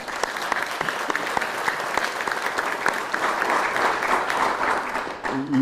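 An audience at a university athletic director's introduction applauds student athletes and staff, many hands clapping in a sustained, dense burst that tapers slightly near the end.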